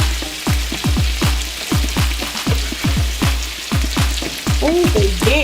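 Steak searing in a hot pan for a surf and turf dish, a loud, close, crackling sizzle with repeated popping spatters and no talking.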